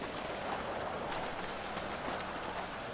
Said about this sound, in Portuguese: Nossa, que chuva, tu viu a chuva